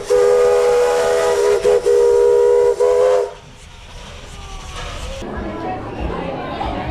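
Loud, sustained whistle of a vintage steam train on the Glenbrook Vintage Railway, sounding in long blasts with a couple of brief breaks, then cutting off to leave a low rumble and ambient noise.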